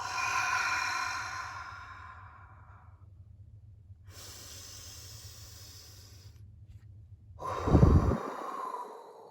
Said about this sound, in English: Another breath in and exhale.